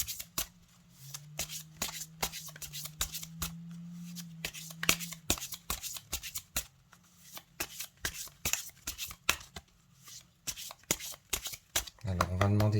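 Oracle cards are shuffled by hand in a quick run of crisp riffling slaps, close and moderately loud, while a voice speaks softly underneath.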